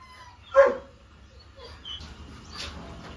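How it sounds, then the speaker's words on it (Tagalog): A dog gives one sharp bark, then fainter yaps follow in the background outdoors on an overcast day among succulent plants. "Sorry sa ingay ng aso guys ha."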